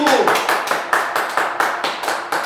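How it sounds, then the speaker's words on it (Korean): A group claps together in a steady, rhythmic beat at a Korean head-shaving send-off before military enlistment, loud and close, with crisp regular claps throughout. "자, 박수"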